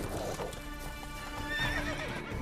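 A horse in The Witcher 3 video game snorts and whinnies loudly while its hooves clop on the ground, the neigh rising clearly in the middle of the clip.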